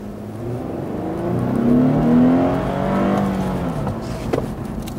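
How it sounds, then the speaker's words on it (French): A 2014 Lexus IS engine revs up as it accelerates quickly, its pitch rising steadily to a sporty whine before easing off, close and fairly loud. "quand on accélère assez rapidement, il nous donne finalement un petit son qui va chercher le côté sport"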